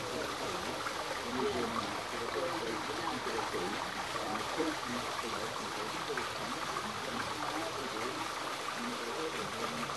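Steady flowing water and a small waterfall at Chalice Well in Glastonbury, a continuous even wash of moderate level running throughout with no talk over it.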